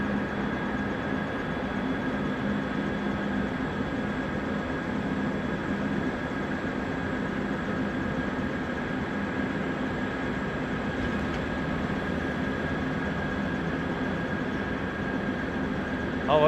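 A steady engine drone and whine from a large jet aircraft taxiing at Ted Stevens International Airport in Anchorage, continuous and moderately distant, with a constant tone holding throughout.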